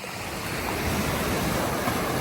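Ocean surf at a beach in Sabang, Philippines, with a constant loud wash of waves close by and some wind buffeting, heard from someone standing in the water.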